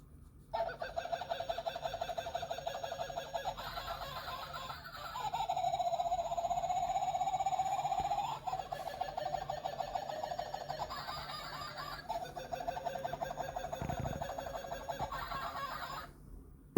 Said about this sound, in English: That's Kevin the Kookaburra, our good luck charm. Whenever anybody goes into hospital, he has a voice